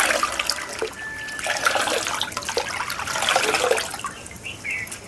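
A cotton gamchha holding sesame seeds is wrung out over water during a home tarpan ritual, giving a close, continuous splashing and trickling of water that runs steadily for several seconds, with no talk.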